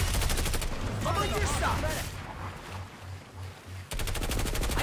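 Rapid automatic gunfire rattles in a 12 vs 12 video game match, loud bursts opening and closing the moment with a player talking in between.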